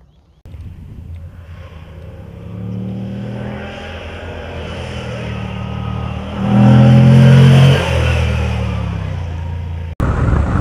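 A Moto Guzzi V85TT Travel motorcycle with an 853 cc engine accelerating on asphalt, its loud, close engine note climbing steadily and swelling to a peak before easing off, then cutting abruptly.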